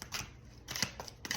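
Tarot cards drawn and slid from a deck during a reading, three soft papery scrapes and flicks, close and quiet with no talk.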